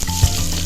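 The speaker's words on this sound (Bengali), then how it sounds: "পেঁয়াজটা ভালো করে ভেজে নেবে, একটু লাল লাল করে" Chopped onion sizzling as it fries in oil for a Bengali fish curry, a steady close hiss with soft crackles and a faint stir throughout, no voices.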